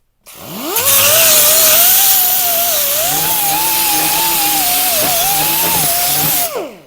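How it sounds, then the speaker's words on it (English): An angle grinder squares up and deburrs metal edges during an RV instant hot water heater installation, whining loudly and close for about six seconds, its pitch wavering as the disc bites the workpiece, then spinning down. "I'm just going to square the edges up with a little bit of angle grinder action"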